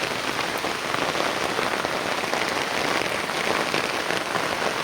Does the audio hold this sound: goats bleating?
no